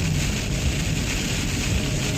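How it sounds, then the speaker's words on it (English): Frozen rain and rain pelting a Toyota 4Runner on a trail in Utah, a loud, dense, continuous hiss of drumming that holds steady throughout with no talking. "it's frozen rain. So it's rain and frozen rain."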